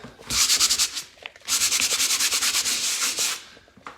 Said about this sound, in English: So I'm going to go through and hand sand all these patches